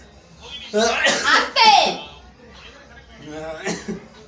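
A few harsh coughing bursts up close, followed by a pause and another short cough, with some faint talk in the background.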